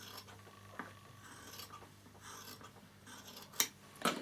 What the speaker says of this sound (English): you can see how the duckbill scissor sits on the underneath fabric